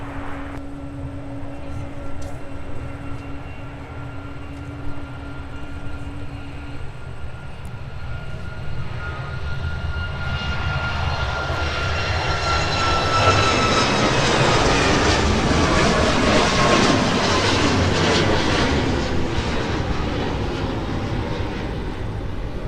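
A jet airliner departs Minneapolis–St. Paul airport bound for Chicago Midway. Its engine roar builds into a loud, sustained rumble with a rising whine. The sound swells from about the midpoint and stays strong and close to the end, with no voices.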